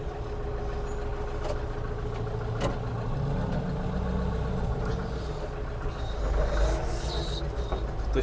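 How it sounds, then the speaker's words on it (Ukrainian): A rotary tiller or mulcher drones steadily at a distance, a low continuous mechanical rumble over a field, with a brief louder swell near the end. "щось наче фрезує, якась фреза"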